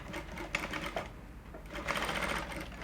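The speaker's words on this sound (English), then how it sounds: "The first thing I'm going to do is to sew the upper part." A sewing machine stitching the upper part of a corset dress, whirring nearby in two bursts separated by a short pause, with no talk.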